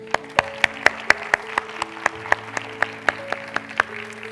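Rhythmic, evenly spaced clapping at a TEDx youth event in Kurdistan, with sharp regular beats about four times a second over a tonal musical background.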